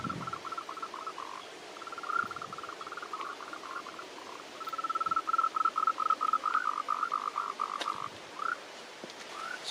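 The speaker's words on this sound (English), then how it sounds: "it's the breeding season for the emerald green tree frogs" Emerald green tree frogs in breeding season call in rapid, pulsing trills in a rainforest at night, one run after another against a steady hiss of night background noise, fairly close.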